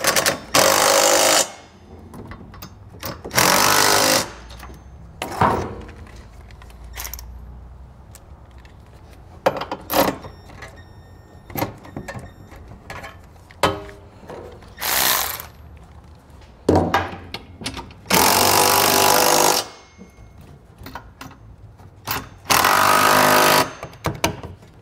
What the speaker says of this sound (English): we use a 3/4 inch socket so we can snug up all of our fasteners